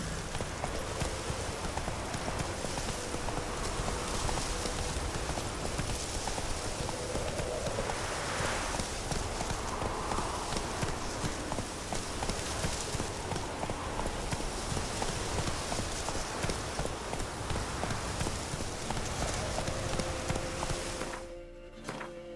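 Horse hooves clip-clop steadily along in The Witcher 3, a continuous galloping rhythm of hoofbeats over a busy game soundscape, fairly loud and constant until a brief quieter moment at the end.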